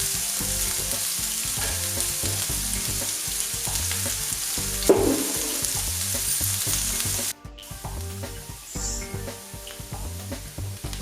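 Chopped onions sizzle steadily in a hot pan as they fry toward red-brown, with a regular scraping rhythm of stirring throughout and a brief louder clatter partway; the frying continues alone with no talk.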